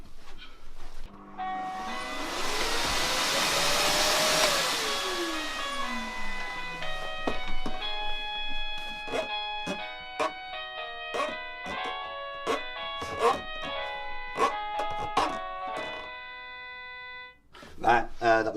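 An electronic doorbell chime plays a long string of bright, ringing tones close by, sounding loud and clear in an otherwise quiet room.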